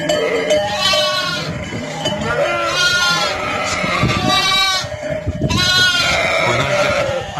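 Several sheep bleat loudly and repeatedly nearby, their calls overlapping in a noisy flock with shuffling and rustling underneath.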